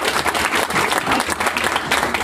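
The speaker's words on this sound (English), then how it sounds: "let's give a big round of applause for our partners" An audience at a startup pitch competition event in Austin claps in a dense, steady round of applause that carries on without a break.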